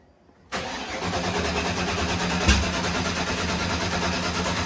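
A car engine controlled by a FuelTech ECU cranking over, a loud steady churning starter drone that begins abruptly and holds, with a brief bump midway and no talk.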